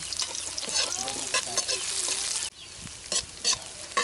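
Garlic, onion and ginger sizzle and crackle in hot oil in a pan beside the sea, with steady close frying hiss and scraping stirs, briefly cut and resumed partway through.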